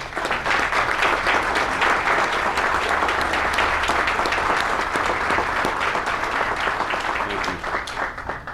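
Steady, dense applause from an outdoor crowd honoring donors at a community college student center groundbreaking, continuing at full strength for several seconds before easing slightly, with no voices over it.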